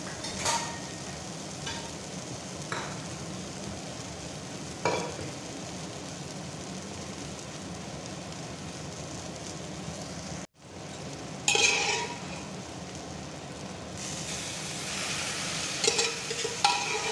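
Drumstick leaves sizzle and crackle steadily in hot oil over lowered heat, with occasional stirring scrapes and a brief pause before the frying hiss resumes.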